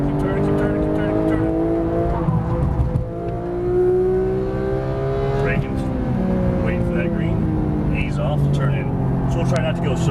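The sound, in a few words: Porsche 911 GT3 race car accelerating on track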